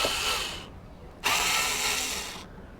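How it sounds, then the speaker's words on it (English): An electric screwdriver works on headlight screws of a Ford Fiesta in two separate bursts of high, whirring motor buzz, each lasting over a second, close and clear with no talking. "To remove this particular screws, you don't need this particular electric screwdriver."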